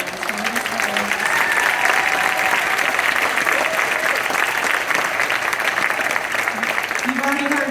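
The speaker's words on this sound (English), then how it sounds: "can we have a round of applause for our inaugural B band?" Dense, steady audience applause for a high school jazz band filling the room at full volume throughout, with a few faint voices and cheers underneath.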